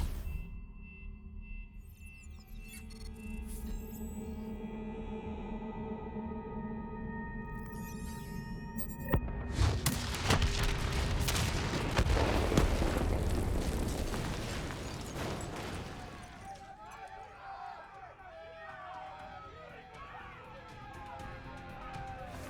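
A Black Ops video game cutscene builds with humming machinery and tones before a detonation sets off a long, loud rumbling explosion with roaring debris, which then fades into crackling aftermath and scattered pops.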